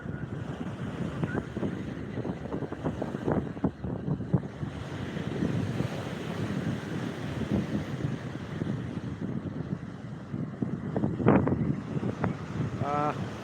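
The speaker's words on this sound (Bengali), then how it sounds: "প্রবল জলোচ্ছ্বাস এবং ঝড়ো হাওয়া বাতাস বইছে একেবারে" Strong gusting wind and rough surf on the Digha sea beach during a high tide roar steadily and loudly, with wind buffeting the microphone and faint voices in the background.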